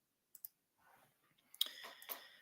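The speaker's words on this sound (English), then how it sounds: "Just typing all this in so you guys can see" Keyboard typing in short bursts, two quick isolated key clicks then a faint run and a louder flurry of taps, close and quiet with no voice.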